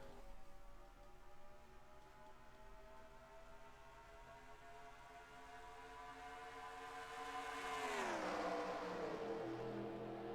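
A field of NASCAR race cars in the NASCAR Racing 2003 game pulling away at the green flag at Daytona, engine tones climbing steadily before a sharp pitch sweep as the pack roars past up close.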